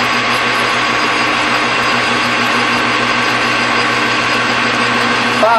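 A steady, loud machine whine and hum of a lathe running as a drill bores into a breather nut for a vintage Mustang, continuous and unchanging throughout.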